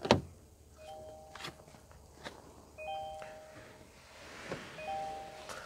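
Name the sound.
Kia Sportage warning chime for key left in ignition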